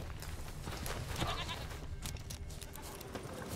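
A goat in The Witcher 3 bleats faintly amid the game's dense ambient sound, a brief wavering call buried in steady background noise.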